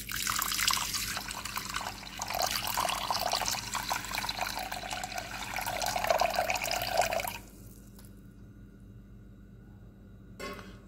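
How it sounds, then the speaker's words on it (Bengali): Water pours steadily into a bowl of lentils soaking for dal makhani, a close splashing rush that stops after about seven seconds, followed by quiet with a brief clink near the end. "এখন এর জন্য আমাকে উপর থেকে কিছু জল ঢেলে দিতে হবে।"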